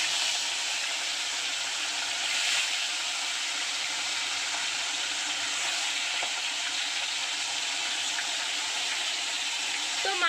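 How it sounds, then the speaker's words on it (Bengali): Fish sizzle steadily in hot oil in a home kitchen, a dense continuous hiss and crackle that holds at an even level, close and without talk. "তো মা এবার মাছগুলো ভেজে নেবে। তেলটা গরম হয়ে গেছে।"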